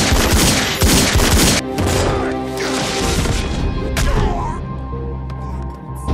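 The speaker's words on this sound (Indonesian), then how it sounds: "terjadilah adegan baku tembak di antara mereka" Dense bursts of movie gunfire erupt in a shootout between two apartment security guards and a gunman, rapid loud cracks and thuds crowding together before thinning into scattered hits.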